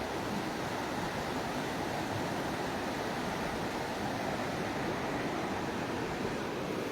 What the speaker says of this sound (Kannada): ಗುರುಶಿಣಗಿ ಬ್ರಿಡ್ಜ್ ಕಮ್ ಬ್ಯಾರೇಜಿಂದ ಭೀಮಾ ನದಿಗೆ ಸಾಕಷ್ಟು ನೀರನ್ನು ಬಿಡುಗಡೆ ಮಾಡಲಾಗಿದೆ.